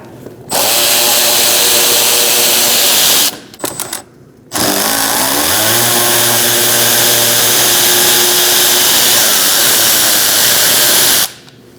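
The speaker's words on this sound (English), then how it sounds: "Using a T15 Torx bit, we're going to remove these two bolts, one here, one here." A power driver with a T15 Torx bit spinning out two bolts from a 2016-2019 Chevrolet Cruze 1.4L engine cooling fan assembly: a loud, close, sustained whine in two long runs separated by a brief stuttering burst and a pause.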